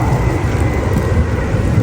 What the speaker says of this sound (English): Oh, it stopped raining a little bit.